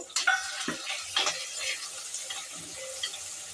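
Chopped tomato hits a hot pan and fries with a soft, crackling sizzle, punctuated by a few scraping stirs and light clicks of a utensil against the pan, close and fairly quiet.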